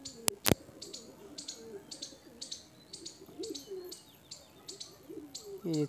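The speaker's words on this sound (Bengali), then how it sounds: "এটা মাদি পায়রা।" Pigeons in a loft, including a female, give soft repeated coos amid a regular series of short chirps, with a sharp click near the start and a louder burst at the end, all fairly quiet and close.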